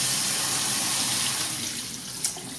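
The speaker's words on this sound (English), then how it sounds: "rinse it a bit" Rice for two cups being rinsed under a steadily running kitchen tap, a continuous close hiss of flowing water with a small splash near the end.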